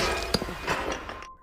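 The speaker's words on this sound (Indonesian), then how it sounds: "menjatuhkan boneka itu sampai kepalanya pecah" A clay doll drops and its head breaks: one sharp crack followed by a brief clatter of fragments, then a short fading tail into quiet.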